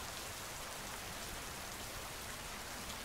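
Rain pours down in a smooth, unbroken hiss, moderately quiet and close, its dense patter never letting up and unaccompanied by any talk.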